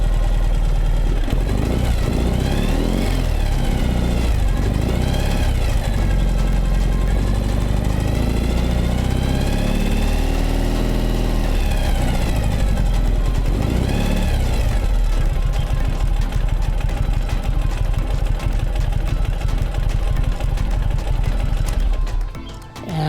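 A Ural motorcycle engine fitted with an electric speedometer and tachometer runs steadily at idle, with a loud, continuous low rumble and some rise and fall in pitch, then cuts off abruptly at the very end.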